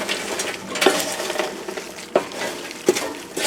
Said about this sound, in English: We're ready to stir one more time.